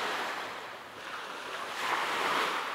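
Sea waves wash onto the shore at Taman beach, a soft, continuous surf hiss that swells and recedes gently, with light wind noise and no voices.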